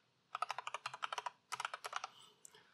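Quick keystrokes on a computer keyboard entering a command, about two dozen crisp clicks in two rapid bursts with a brief pause between, close and fairly quiet, no voices.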